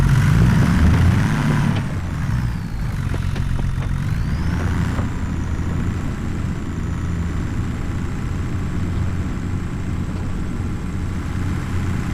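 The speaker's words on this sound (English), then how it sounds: "Nice clean tractor here" A clean tractor driven in Farming Simulator 25 gives a steady, loud low engine drone with a slight shift in pitch early on, then settles into a continuous rumble with no voices.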